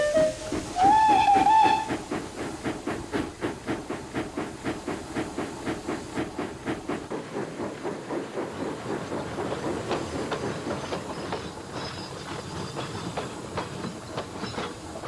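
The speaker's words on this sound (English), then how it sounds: "he moved to his van, blew the whistle, and Riley set off" A steam locomotive sets off with a loud whistle blast, then a steady chuffing exhaust beat and hissing steam, with rail clatter building as the train pulls away.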